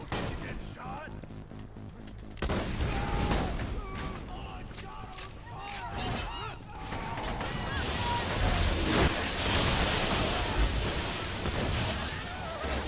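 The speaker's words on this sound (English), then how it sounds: "we need a shotgun. Hit the shotgun." Shotgun fire in the video game Borderlands 2 comes as repeated blasts mixed with game effects and chaotic combat noise, while players talk excitedly over it.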